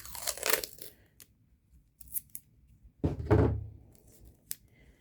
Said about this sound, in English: But most of the time I just take some masking tape